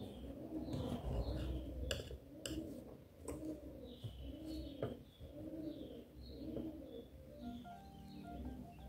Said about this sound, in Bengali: দেখো, এখানে প্রচুর পায়রা আছে,